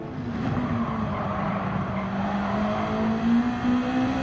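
A car engine drones steadily at close range during a downshift to third gear on a track curve, the pitch sagging slightly before a brief rise in revs near the end, with faint tire noise and no talking.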